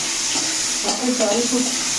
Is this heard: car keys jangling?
no